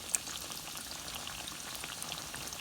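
Pork chops sizzle in a frying pan over moderate heat, a steady close crackle and hiss with scattered small pops throughout.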